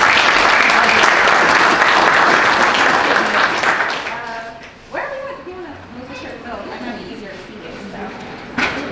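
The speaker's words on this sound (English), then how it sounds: "Let's give her a round of applause." Loud applause from a panel-discussion audience fills the first few seconds, then fades into scattered clapping as a voice begins speaking over it.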